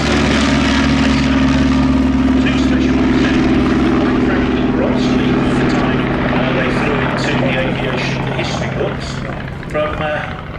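A Polikarpov Po-2 Soviet vintage biplane gets airborne at an airshow, its propeller engine droning loud and steady before slowly fading as it climbs away, with a commentator talking over it.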